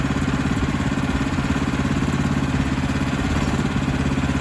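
A Kohler engine on a sawmill runs steadily just after a cold start, a loud close mechanical drone with a fast even putter and a rattly clatter, unbroken throughout.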